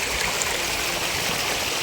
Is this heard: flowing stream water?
yes